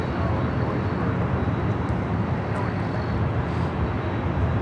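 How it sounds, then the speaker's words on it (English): Delta Boeing 767-400ER jet taking off from the north side at LAX, a steady broadband engine roar holding loud and constant throughout, with no clear rise or fade. "Do have a Delta 767-400ER heading to JFK, flight 939, and next takeoff here on the north side."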